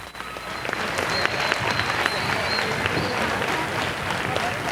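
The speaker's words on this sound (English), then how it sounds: "Let's give them all one more great big round of applause." A crowd in the Raider Gymnasium gives a long round of applause for honored 1961 cheerleaders and Arkansas State basketball champions, with dense, sustained clapping echoing in the hall and faint voices mixed in.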